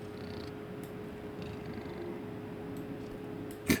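A leopard-like war cat pet in Diablo 4 purrs softly and continuously at close range, with a small louder burst right at the end.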